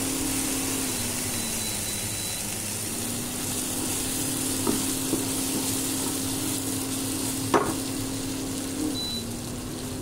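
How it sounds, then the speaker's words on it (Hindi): Ground spice paste sizzles gently in a pan over a lowered flame for a Muttor Paneer curry, a steady soft crackle with a low hum beneath and a few faint clinks near the end. "पीसी हुई सब मसाला को डाल दिए है इसको थोड़ा सा भूनने देंगे"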